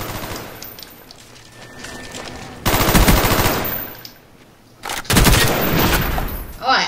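Rapid automatic gunfire from Call of Duty Black Ops multiplayer against bots: loud, dense bursts of shots that come and go, with a quieter stretch between heavy volleys.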